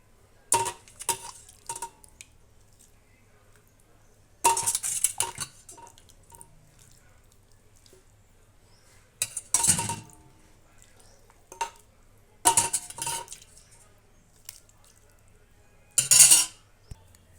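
Rice and curry layered into a pot for Tadipatri biryani, heard as intermittent bursts of spoon clinks and scraping against the pot, separated by quiet pauses, close by with no talk.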